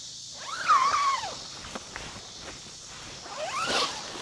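A zipper is drawn along a solid window panel on an Awesome Holiday Terrapass 3P lightweight three-person tent, with a quick rasping zip near the start, faint rustling of fabric and another brief zip near the end.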